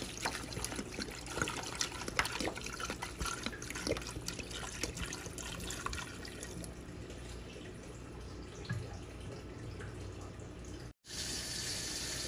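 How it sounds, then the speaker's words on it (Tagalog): Water runs from a tap into a pot of pork adobo with pork ribs, a continuous faint splashing and trickling that tapers off near the end. "Tapos lagyan na natin ng tubig."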